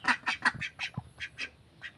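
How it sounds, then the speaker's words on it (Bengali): Tethered farm ducks quacking, a quick run of about nine loud, close calls in uneven rhythm with no other sound. "এই জন্য হাঁসগুলো বেঁধে রেখেছি।"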